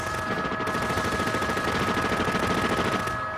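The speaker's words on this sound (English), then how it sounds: "Officers find themselves against a fully automatic modified AK-47 with armored piercing bullets." Sustained, rapid automatic gunfire from a fully automatic modified AK-47 firing armor-piercing rounds, a dense, loud, continuous barrage of shots lasting several seconds without pause.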